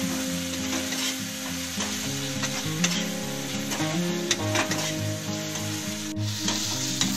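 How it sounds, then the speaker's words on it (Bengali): A chilli cauliflower mixture with lemon juice, pepper and salt is stirred in a hot pan, making a continuous close sizzle broken by scraping spatula strokes and occasional clinks. "সব কিছু একসঙ্গে ভালো করে মিশিয়ে একটু নেড়ে চেড়ে নেব।"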